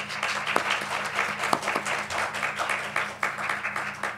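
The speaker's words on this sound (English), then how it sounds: "We'd like to welcome the panelists with a round of applause." Audience applause welcomes panelists at a community planning panel event: a steady, dense wash of many hands clapping at moderate volume, with a few sharper individual claps standing out throughout.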